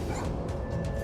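A dog barks sharply during an attack on people in a neighborhood, a quick pair of loud, close yapping barks with a whimpering edge in a short burst.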